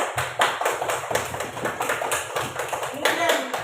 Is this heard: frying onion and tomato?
no